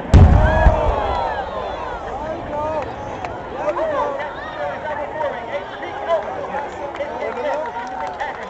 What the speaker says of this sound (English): Those cameras ready for the wall of fire.